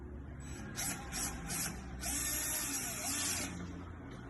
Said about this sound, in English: it's a little unit that we'll just screw to the backing here